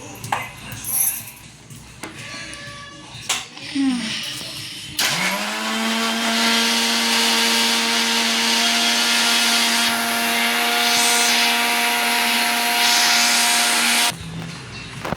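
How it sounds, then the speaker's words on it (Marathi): An electric mixer grinder blending an Oreo milkshake: after some handling clinks and rattles, the motor kicks in with a loud, steady whine that holds for about nine seconds before stopping. "आता हे मिक्सरला आपण वाटून घेऊ."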